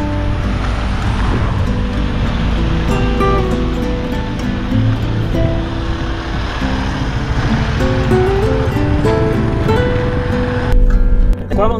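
Ocean waves washing steadily along the Vietnamese coast, a continuous loud rushing surf with wind noise close by, no clear breaks between waves.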